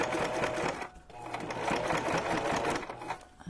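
A sewing machine stitches a junk journal cover, running in a loud, close, continuous whir that dips briefly near the one-second mark before carrying on to the end.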